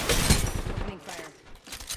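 Gunfire in a multiplayer shooter match, several rapid close shots in a burst at the start, then scattered further shots and mechanical clatter, with a voice talking over it.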